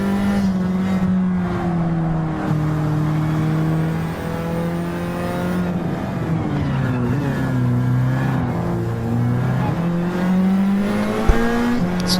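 Race car engines drone and rise in pitch as several cars race closely in the video game Trackmania, loud and continuous with overlapping revs and gear changes.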